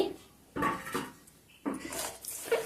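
A spoon scrapes and knocks against a bowl while bottle gourd batter with grated ginger, green chillies, salt and chilli powder is mixed, in a few short clattering bursts separated by pauses.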